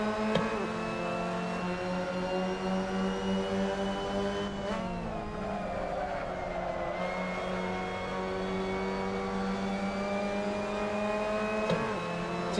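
Pack of Mazda MX-5 Cup race cars running at Martinsville in a racing video game, a steady high engine drone with shifting pitch as revs rise and fall, continuous and close, with no talk.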